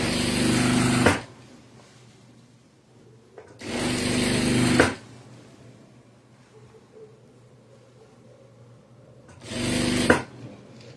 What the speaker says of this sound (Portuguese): Então, eu vou só levando os dois tecidos juntinhos. e mantendo aqui o meu pé de máquina